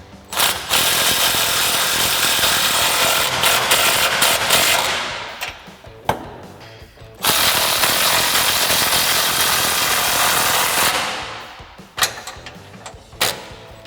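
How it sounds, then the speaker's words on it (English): A 3/8 impact gun tightening sway bar bolts on a Ford F-250 with an 18mm socket, two long loud rattling bursts of several seconds each, then a few short hits. "I'm going to take my 16mm wrench and my 18mm socket on my 3/8 gun and tighten our two sway bar bolts up."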